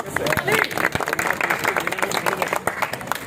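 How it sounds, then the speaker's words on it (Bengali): An audience claps at a birthday celebration, giving a short burst of brisk, scattered applause with voices talking over it. "সবাইটা হাততালি দিই"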